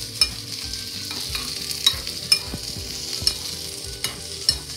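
Onions sautéed in a pan for sambal, a utensil scraping and tapping the pan in regular strokes over a low, steady sizzle, near and clear with no talking.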